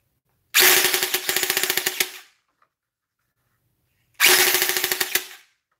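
An STD6 toy blaster fires at its slow rate in two separate bursts, each a mechanical ratcheting rattle of evenly spaced shots lasting over a second, with silence between.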